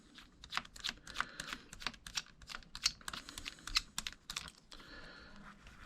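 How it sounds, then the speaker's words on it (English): Screws being undone on an Abu Garcia 6500c3 fishing reel, a quick run of small, close, crisp metallic clicks and ticks in an irregular rhythm, fairly quiet. "You just got to undo these 3 screws"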